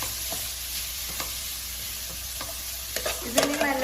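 Carrots, about 300 grams, sautéing in a pan for carrot halwa, a steady soft sizzle with occasional stirring scrapes and clinks near the end.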